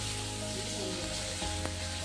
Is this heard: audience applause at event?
no